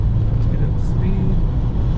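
A 1984 Ford Mustang GT350 under acceleration, its engine a steady low drone mixed with road and wind noise from inside the cabin, loud and continuous for the whole stretch.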